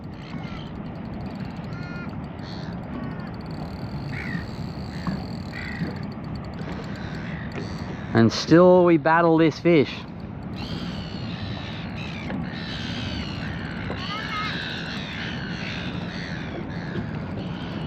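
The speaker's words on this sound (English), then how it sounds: "Seagulls up there fighting with the crows." Crows cawing as seagulls fight them above a harbour: harsh caws and squawks ring out in a brief loud flurry over steady water and wind noise, with someone speaking nearby.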